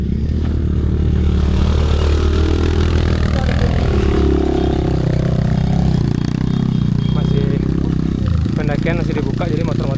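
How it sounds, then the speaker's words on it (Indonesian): Motorcycles pass along a sandy hiking route during an ultra trail race, their engines droning and revving loudly and continuously close by, with shifting pitch as bikes come and go and a voice speaking over them. "Pendakian masih dibuka, jadi motor-motor ramai banget."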